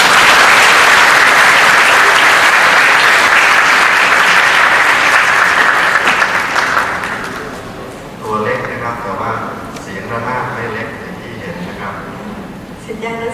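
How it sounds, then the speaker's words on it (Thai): A Thai audience breaks into loud, sustained applause to welcome a music teacher at a classical Thai music event, the clapping dense and even for several seconds before fading as a voice begins speaking. "ขอเสียงปรบมือต้อนรับคุณครูสนองหลวงพุนทรครับ"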